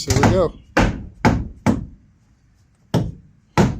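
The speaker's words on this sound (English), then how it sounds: "that's all he's really doing, is just giving it a couple of good whacks" Hard blows strike a garage wall section being knocked back into place: a string of five loud, separate thuds, spaced unevenly, the first right after a brief spoken line.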